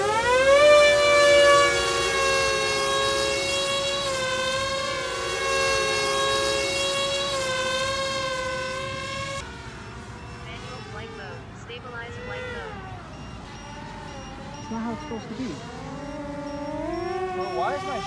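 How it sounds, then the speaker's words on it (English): A battery low-voltage warning alarm sounds on a large 2.2 meter Arduplane VTOL flying-wing quadplane, a loud continuous tonal beeping that holds steady at first, then turns quieter and wavering. "And you guys hear the battery warnings, right?"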